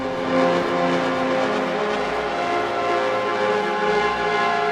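A sustained synthesizer tone on an Ableton Push 3, its filter opening to let more frequencies in, holds steady, its bright buzzy timbre droning evenly for several seconds.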